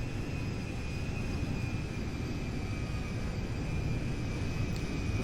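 Boeing 747 firefighting tanker plane taxiing in GTA 5, a steady, fairly quiet jet engine rumble and hiss with a constant high whine running through, unchanging throughout with no talk.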